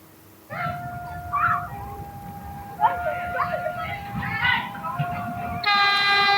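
A commuter train on the Sidoarjo–Mojokerto line in Indonesia rumbles past with a sustained horn blast, then a brighter, higher whistle near the end, while people talk over it.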